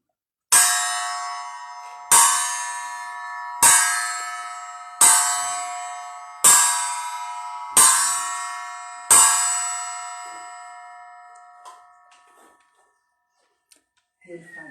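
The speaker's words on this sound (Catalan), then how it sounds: "a les 12 de la nit van tocar les campanes del campanar." Church tower bells strike at midnight, seven loud, evenly spaced bell strokes about a second and a half apart, each ringing out and decaying before the next, then a lingering fade with faint background sounds.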